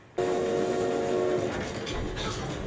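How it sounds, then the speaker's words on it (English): A night train passes with a sudden loud horn blast, then rumbling and clattering wagons that continue steadily nearby. "Night train, right on schedule."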